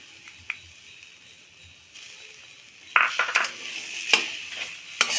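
Grated coconut is stirred in a wok for a bhapa pitha filling: a quiet start, then close, irregular scraping stirs with light clattering against the pan and a faint sizzle.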